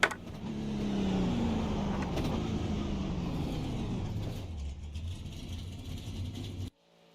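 A continuous NASCAR truck engine roar in a racing video game at Talladega, fairly close, holding steady then thinning out before cutting off abruptly near the end; no talking.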